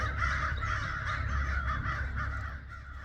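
Crows caw repeatedly in a steady, agitated series from trees, mobbing a hawk perched nearby, moderately close and loud outdoors with no talking.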